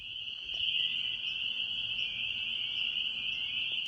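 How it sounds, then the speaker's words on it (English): Crickets chirp at night outside an open window, a dense continuous high trill that holds steady throughout, moderately close and alone with no voices. "Let's listen to the crickets."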